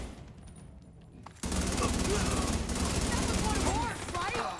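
Sustained automatic gunfire from The Division 2 video game, a whole magazine emptied in one dense, loud burst that starts abruptly after a quieter stretch and runs for several seconds, with a brief dip near the end.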